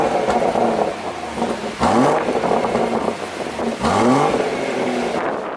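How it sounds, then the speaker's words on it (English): A BMW M140i fitted with an M Performance exhaust fires up and revs, giving two rising blips a couple of seconds apart over a loud, steady engine tone, close by and with no talking. "start up the M140i and compare the sounds"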